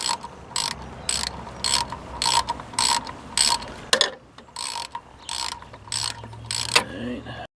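Rapid bursts of ratchet clicking from a 10 mm socket wrench working on a car's thermostat housing, about ten short even strokes close to the mic, then a brief pause and a few more.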